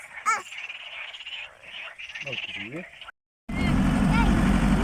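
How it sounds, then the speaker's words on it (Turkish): Frogs croaking near water on a nature camping trip in the Gulnar area of Mersin, a chorus of short repeated croaks under close family chatter, then a sudden louder rushing outdoor wash after a brief cut. "kurbağalar başımızı ağrıtıyor. Susmuyorlar."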